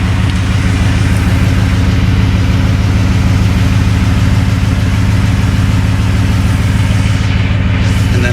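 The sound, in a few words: Ford F150 engine idling with CGS aftermarket exhaust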